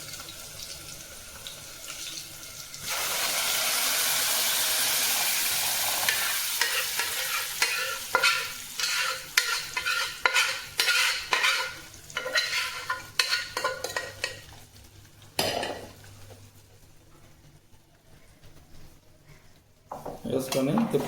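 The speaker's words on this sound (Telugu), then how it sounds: "ఇప్పుడు మనం సిమ్లో పెట్టుకొని పప్పునైతే ఈ తాలింపులో వేసుకుందామండి." Cooked dal goes into a hot tempering for a tamarind-leaf dal, a sudden sustained hiss followed by a long run of rhythmic stirring scrapes and clatter that fades near the end. A voice speaks in between.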